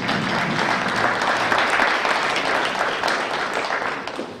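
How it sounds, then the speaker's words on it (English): An audience at a public transportation planning workshop in Mill Valley, California claps together in a thick, sustained round of applause that swells slightly and then begins to taper off. "so let's give them a round of applause."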